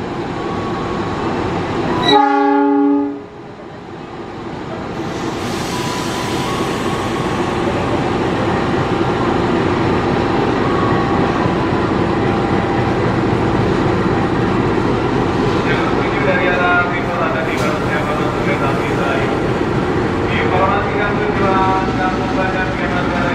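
A train horn sounds briefly, then a heavy coal train locomotive and wagons rumble past close by a station platform at Jatinegara, Jakarta, with steady clattering, a voice faintly audible beneath.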